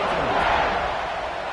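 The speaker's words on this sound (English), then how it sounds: "this crowd is buzzing after that last score" A stadium crowd in the football video game College Football 26 after a score, a dense continuous roar of cheering that stays loud and steady throughout.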